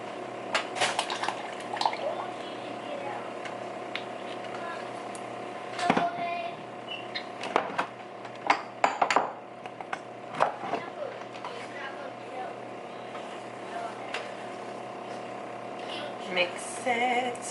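Seasonings being stirred into a pot for a Cajun seafood boil with king crab, with soft scraping, clinks and liquid sloshing under a steady kitchen hum, and occasional louder knocks.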